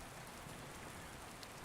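Steady rain falls at night, a soft, even patter of drops on surfaces that stays faint and constant throughout with no talking.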